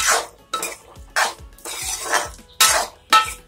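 Chicken semiya being stirred in a pan, with a series of distinct scraping and clinking strokes of a utensil against the metal, roughly six separate strokes at an uneven rhythm, close and clear with no talk.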